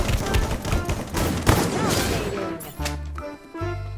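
Rapid gunfire in a battle royale video game, a dense close burst of shots with heavy thuds that thins out into a few separate shots.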